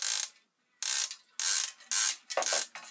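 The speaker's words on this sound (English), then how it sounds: "here's what the bait clicker sounds like" A fishing reel's bait clicker gives five quick bursts of rapid metallic ratcheting clicks, separated by short pauses, close and fairly loud with no talking.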